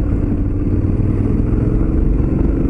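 A Honda X-ADV motorcycle rides a flat, unpaved dirt road, giving a steady, close engine drone mixed with rough rolling and clattering noise throughout, with no talking.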